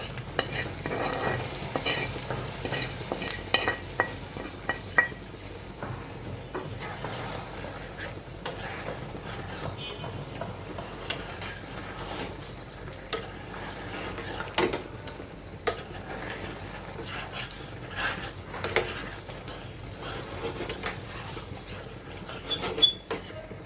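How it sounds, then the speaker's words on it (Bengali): Chicken with ginger paste fries steadily in a pan, a continuous soft sizzle broken by scraping stirs, with no talking. "আদা হয়ে গিয়েছে, এখন এটা আমি চিকেনের মধ্যে দিয়ে দিব।"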